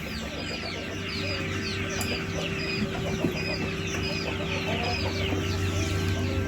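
Japanese bantam chickens clucking on a farm, a steady mixed chorus of soft clucks and chatter over a constant mechanical hum, with no speech.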